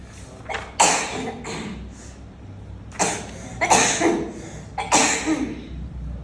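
A person with a chronic cough coughs several times in harsh, separate bursts and short clusters, close by, over a low background hum.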